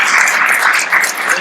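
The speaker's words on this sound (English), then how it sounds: "I feel like we now need a round of applause after our presentation" A conference audience at a COP21 greenhouse-gas standards side event gives a round of applause after a presentation, a close, even wash of clapping that carries on without a break for its short length.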